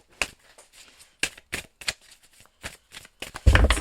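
Akashic oracle cards are shuffled for a reading, giving a series of crisp, separate riffling and tapping bursts at close range, ending in a louder rustle.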